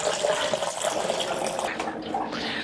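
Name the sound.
water running from AquaTrue reverse osmosis water filter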